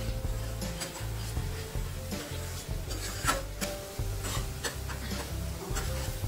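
Prawns sautéed with turmeric and kitchen masala for a spicy curry, stirred steadily in a pan: continuous scraping and rubbing strokes with a soft sizzle underneath, close and fairly loud, no talking.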